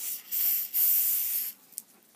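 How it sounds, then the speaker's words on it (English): Aerosol lubricant sprayed into the pivot of a Spyderco Dragonfly 2 folding knife, two steady hissing bursts of about half a second and a full second, close up, then a faint clink. "spray a whole bunch of that down in there real good so it goes into it"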